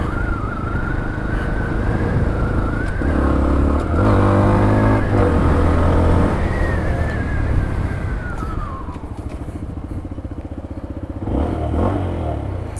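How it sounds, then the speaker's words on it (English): A 2016 Braaap Urban motorbike with a quiet exhaust pulls away and revs through the gears, engine pitch rising and falling with wind and road noise, heard from the rider's position. "It's got a very quiet exhaust, nice and punchy"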